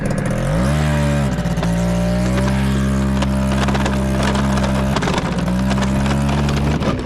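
A moped engine runs loud and close at night beside a village cemetery. The motor climbs in pitch as it revs up early on, then settles into a steady buzzing idle with another brief rev midway and a rattly mechanical clatter.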